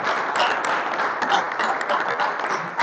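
A church congregation claps during a Sunday service, a continuous wash of many hands from the pews, fairly even in loudness throughout.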